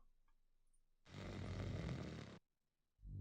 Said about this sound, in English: The man seated near to the window must be the guild master. He is snoring.